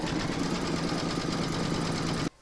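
An embroidery machine stitches an in-the-hoop witch boot design, giving a steady, dense mechanical whir and rapid needle chatter that runs continuously, close and loud, before stopping abruptly at the end.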